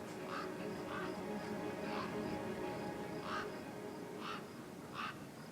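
Scavenger birds in Beyond a Steel Sky call in a wasteland: five or six spaced, distant caws repeat over a low ambient hum while a voice narrates.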